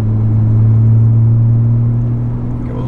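Car with a Stage 3 XHP transmission flash running in Sport Plus mode, a close, loud, steady low engine drone with a strong hum while it accelerates, no talk.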